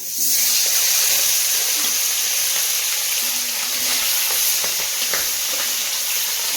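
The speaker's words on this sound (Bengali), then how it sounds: "মাছের নবর হলুদ মাখিয়ে নিয়েছি এবারে তেলের মধ্যে ছেড়ে দেবো" Turmeric-coated fish pieces frying in hot oil, a steady loud sizzle and hiss throughout with small crackles and pops, no voices.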